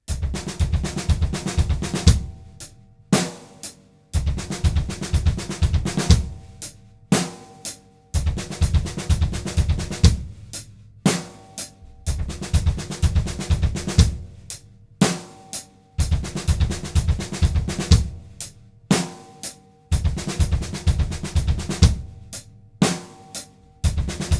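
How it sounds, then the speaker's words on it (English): Loud drum phrases of seventeen-stroke rolls on snare with kick drum underneath, played slowly, each burst ending in an accent, repeating with short pauses between. "Nice and slow, that one sounds like this."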